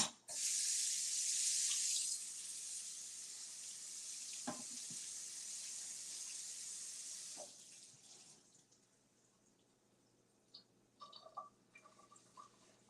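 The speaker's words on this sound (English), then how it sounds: "let me rinse this off again" Water from a kitchen tap runs hard onto a pan for about seven seconds, a steady rushing spray that then cuts off, leaving faint clinks and drips in a quiet room.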